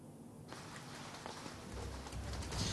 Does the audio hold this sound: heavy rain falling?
yes